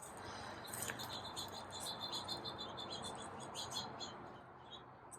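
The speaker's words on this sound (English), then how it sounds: "You hear the other birds?" Garden birds chirp and tweet steadily in the background alongside a continuous insect-like trill, fairly faint and distant, with chickens kept nearby and no talking.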